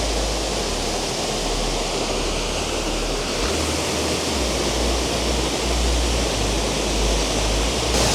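Large waterfall at the foot of the Cirque de Saint-Même, a steady, loud, broadband roar of falling water, close and continuous with no break.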